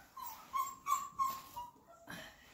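Flat-coated retriever puppies whimper in a series of thin, high, drawn-out whines, about five short cries in a row, close and fairly quiet, during a first-day clicker training session.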